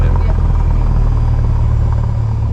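A Cessna 172 engine idles steadily while the plane taxis at Calgary Springbank Airport, a loud, constant low droning rumble throughout with no break.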